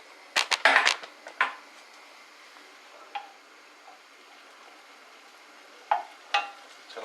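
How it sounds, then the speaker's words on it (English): Butter melting in a pan for a roux, a faint low sizzle broken by a few clinks and scrapes of a utensil, quiet and close. "we're melting the butter over here"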